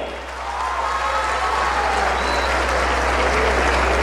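Steady, dense applause from a rodeo crowd greeting a bull rider at the Rey de Reyes bull-riding tournament, sustained and fairly loud throughout with no break.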